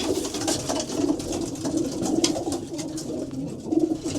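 Racing pigeons cooing inside a loft shed, several low repeated throaty coos close by over a steady background of rustling and shed ambience, with no talk.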